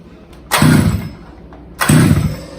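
A petrol kick scooter engine is cranked twice, two loud close bursts that catch briefly and fade, with a quiet pause between them.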